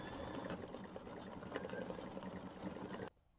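An embroidery machine runs a satin stitch over a raw edge of a rainbow design, a fast steady mechanical whirring chatter, close and continuous until it stops abruptly near the end.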